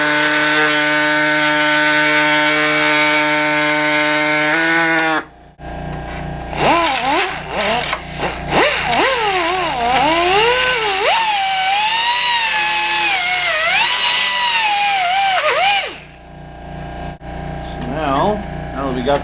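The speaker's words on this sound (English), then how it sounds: "we're going to cut the flange off of the actual off the sides of the kit to give us a perfect fit inside" A power tool cuts away the plastic flange on the sides of a dash kit during an iPad Mini installation in a Chevy dash, a loud steady whine at first, then a wavering pitch as the blade bites, briefly pausing in between.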